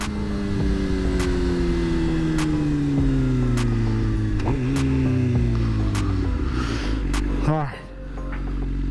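A 2013 Suzuki Gixxer 750 motorcycle holds a loud, steady engine drone that falls slowly in pitch as it lifts into a wheelie, with sharp clicks at intervals and a brief dip near the end.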